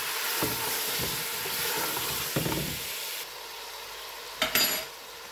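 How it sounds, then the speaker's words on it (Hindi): Lamb pieces frying with ginger garlic paste and sliced onion, a steady close sizzle with stirring scrapes of a spoon against the pan, then quieter sizzling after a clattering stir. "अब हमने बस इसको भूनना है अच्छी तरह"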